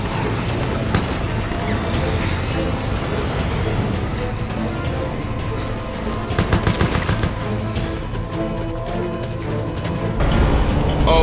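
Continuous rapid gunfire from the Resident Evil: Operation Raccoon City video game, dense automatic bursts with crashing impacts running the whole time, loud and close, with occasional shouted voices underneath.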